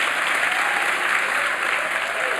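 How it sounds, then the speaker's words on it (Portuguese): Church congregation applauding during a sermon, a dense, steady wash of clapping from many hands that fills the whole moment without pause and without voices on top. "Aplaude mesmo, irmão, aplaude aqui, a senhora tem que aplaudir."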